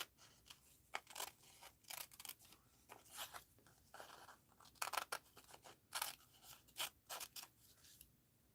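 Scissors cutting out a paper art piece, a series of crisp snipping crunches in an irregular rhythm, about a dozen cuts with short pauses between, close and fairly quiet.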